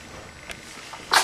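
A single sharp sneeze bursts out close by at the end, after a quiet stretch on a home balcony.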